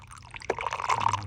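Water from a bottle is poured into a clogged air conditioner drainage line, making a short gurgling, splashing trickle. The pour is close and quiet and builds over about a second, with a low hum underneath.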